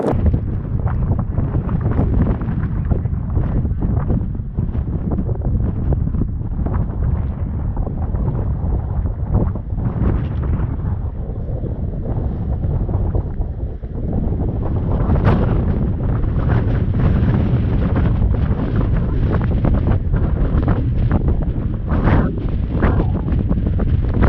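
Strong wind buffets the microphone outdoors in Montana, a loud, continuous roaring rumble that swells and gusts for the full length with no voices.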